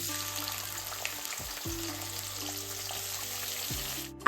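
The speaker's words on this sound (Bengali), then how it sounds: "কড়াইতে তেজপাতা ফোড়ন দিয়ে তাতে কেটে রাখা পেঁয়াজ দিয়ে একটু ভাজা ভাজা করে নেওয়া হচ্ছে" Onions and bay leaf fry in a kadai, giving a quiet, steady sizzle with occasional stirring scrapes and a sharp clatter right at the end, with no talking.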